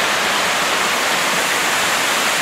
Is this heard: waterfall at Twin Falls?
yes